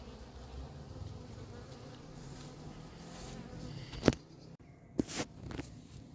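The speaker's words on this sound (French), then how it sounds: "il y a pas mal d'abeilles là dans le toit bleu" Steady buzzing of many honeybees swarming at a hive with a blue roof, a continuous droning hum with a few louder knocks and bumps close to the microphone near the end.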